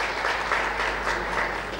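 Steady applause from conference guests welcoming a state minister at a smart city event in Bhopal, a dense even clapping that fills the hall without pause.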